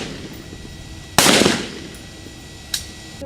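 Firearms training on a police academy range, with one loud, near gunshot burst that rings and decays, followed by a fainter, sharper shot a moment later.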